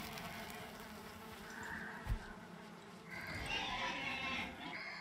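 Buzzing bees in the video game Valheim, a steady insect drone that swells louder toward the end of the clip, heard alone without talk.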